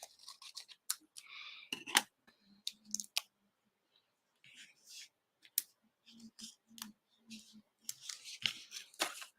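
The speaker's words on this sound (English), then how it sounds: "Guess I could just cut some of these down." Small foam dimensional adhesive squares being snipped with scissors for a handmade card, giving a run of quiet, close, irregular clicks and snips with pauses, with someone talking softly between the cuts.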